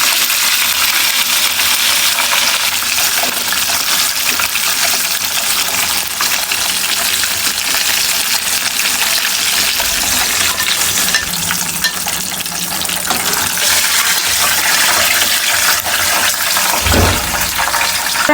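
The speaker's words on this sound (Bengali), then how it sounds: "আমি সবগুলো চিকেন ফ্রাই ভেজে নেব" KFC-style fried chicken pieces bubble and crackle steadily in hot oil, a loud, dense, continuous sizzle with occasional clinks and a brief low thump near the end, no talking.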